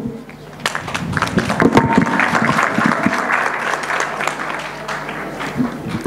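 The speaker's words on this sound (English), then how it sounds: "Let's give them another round of applause" Audience applause follows a pitch at a Caribbean girls' hackathon, lively crowd clapping building quickly and holding steady, fairly close and loud, with a faint voice or two underneath.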